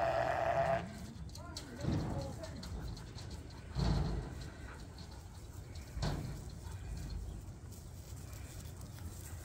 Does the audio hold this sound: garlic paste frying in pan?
no